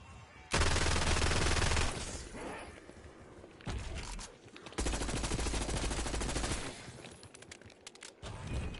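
Gunfire in Call of Duty Zombies: two long bursts of rapid automatic fire, loud and continuous, separated by quieter stretches of scattered shots and game noise.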